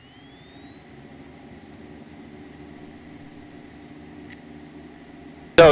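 A small training airplane's engine running at full power after flaps up in the traffic pattern, a steady loud drone with a faint rising whine at the start and a sharp burst of noise at the very end.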